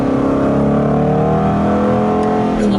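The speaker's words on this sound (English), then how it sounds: "You downshift, the engine revs rise." An Aston Martin GT8 engine revs up sharply on a downshift, loud and close with rising harmonic tones, a steady roar throughout and a brief extra blip near the end.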